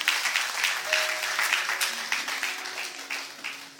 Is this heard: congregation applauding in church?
yes